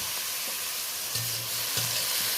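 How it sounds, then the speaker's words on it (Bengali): Grated onion and tomato fry in hot oil with tempering spices while a spoon stirs the pan, giving a steady soft sizzle with a few scraping clinks and low knocks of the utensil. "ফোড়নের সাথে গ্রেট করা পেঁয়াজ আর টমেটোটা ভালো করে নেড়ে নিচ্ছি।"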